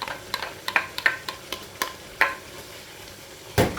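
Pork and vegetables stir-fried in a pan, with a soft sizzle underneath sharp, irregular scrapes and clacks of a utensil against the pan, fairly quiet and without voices.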